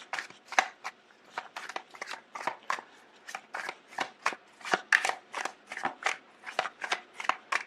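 Tarot cards are shuffled and handled in a steady run of crisp riffling flicks, repeating rapidly and close up with no talking.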